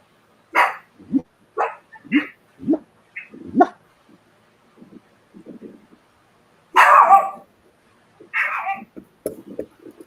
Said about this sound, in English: He's got these little baby barks.